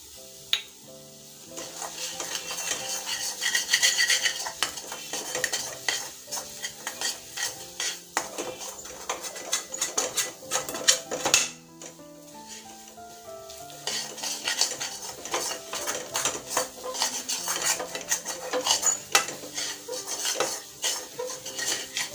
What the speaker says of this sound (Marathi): आता आपले हे खोबरं व्यवस्थित भाजून झालेलं आहे